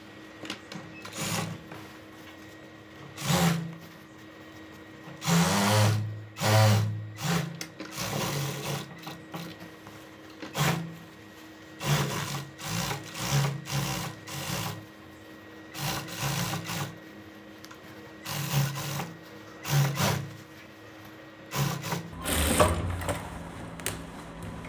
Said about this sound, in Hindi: सही जुड़ा है तो आप नीचे से ये सीट वाली सिलाई पूरी कर लीजिए